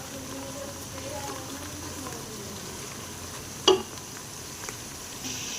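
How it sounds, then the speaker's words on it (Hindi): Onions frying and browning in a pot for Kabuli pulao make a soft, steady sizzle, with one sharp clink partway through and a low background hum. "तो इधर हमारे प्याज ब्राउन हो रहे हैं।"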